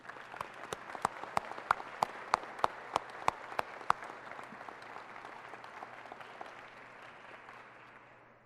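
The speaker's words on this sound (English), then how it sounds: "please, let's give them a round of applause" Applause at a city public safety awards ceremony: a sustained crowd clapping with a few sharp, loud individual claps standing out near the front for the first four seconds, then fading gradually.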